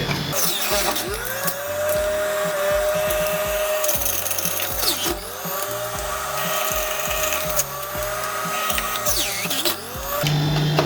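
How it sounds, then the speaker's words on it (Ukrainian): A Saturn ST FP8088 juicer runs at its first speed, a loud steady motor whine with a tonal hum and grinding rasp as a pusher presses food down onto the grater, close and continuous. "Вмикаємо першу швидкість і штовхачем допомагаємо дістатися терки."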